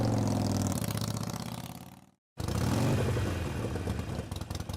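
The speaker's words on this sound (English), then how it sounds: "how about a Reaper riding his motorcycle?" A Grim Reaper animatronic riding a motorcycle, called The Highway Reaper, gives off a loud, steady revving motorcycle engine sound that cuts out briefly for a moment and then roars back at full strength.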